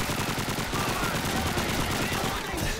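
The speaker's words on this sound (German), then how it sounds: "Das war eine Granate." A grenade blast in the World War II shooter Call of Duty 2 rolls through a steady, dense wash of battlefield noise and distant gunfire, with no single sharp peak standing out.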